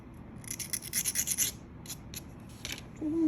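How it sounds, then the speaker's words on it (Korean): Natural mother-of-pearl corner being filed by hand: a rapid run of about eight close, crisp rasping strokes, then a few scattered shorter scrapes, all nearby with no talk. "여기도 모서리를 이렇게 갈아주면 더 좋죠."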